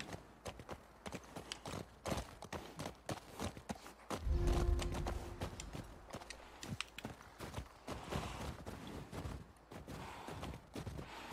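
Horse hooves clip-clopping in the video game The Last of Us Part II, a steady rhythmic run of hoof strikes under riding, close and continuous with a brief louder low rumble partway through and occasional snorting.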